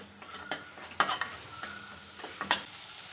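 Ground masala with garam masala roasting in oil for a cowpea pod curry, with soft sizzling under repeated sharp clinks and scrapes of a spoon stirring against the pan.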